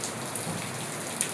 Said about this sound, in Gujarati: એ બેન વરસાદ ચાલુ થઈ ગયો.